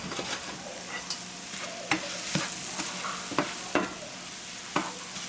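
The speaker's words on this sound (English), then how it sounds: "So constantly stir for about 1 minute. Do like a stir fry like motion." Garlic sizzles steadily in a hot pan while being stirred constantly in a stir-fry motion, a close frying hiss broken by sharp scrapes and taps of the utensil against the pan.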